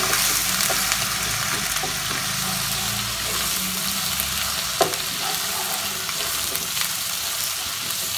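Garlic-ginger paste fries hard in a pan for dal, giving a loud, dense, continuous sizzle with occasional faint clinks of stirring and no voices.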